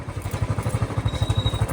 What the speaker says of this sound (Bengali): উঠে গেছি আমি বাইকে, আর তাও রাস্তাটা ভাঙ্গা আছে।